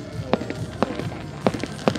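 High-altitude New Year's Eve fireworks pop and crack at a distance, several sharp irregular bursts over a continuous rumbling background.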